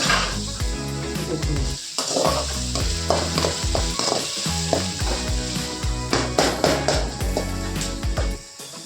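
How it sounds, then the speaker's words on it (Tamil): Onions sizzle loudly in a hot pan for egg fried rice while a spatula stirs and scrapes them repeatedly, close and continuous with no talking. "ஆனியன் நல்லா வதங்கணும்."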